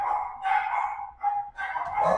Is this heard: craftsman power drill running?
no